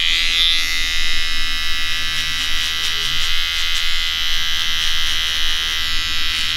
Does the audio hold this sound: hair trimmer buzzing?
yes